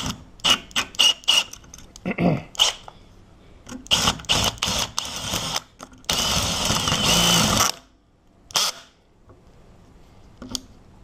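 A power drill grinds in short bursts against a hardened steel lock, then runs in a longer sustained stretch, loud and close.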